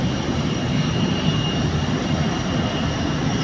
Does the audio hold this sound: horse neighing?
no